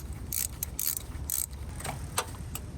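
A wrench works loose the battery terminal on a Honda CR-V, several quick ratcheting clicks in short bursts close by, with faint rattles between, no talking.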